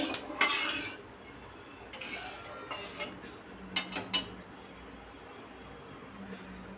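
Chicken pieces are added to a pan of hot spiced tempering, with sharp metallic clinks and clatters of utensils on cookware, a few in quick clusters, then a quieter stretch.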